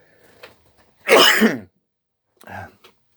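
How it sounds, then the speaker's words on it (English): A single sharp sneeze bursts out loudly and close, preceded by a faint breath and followed by a brief softer exhale or sniff. "I'm going to sneeze."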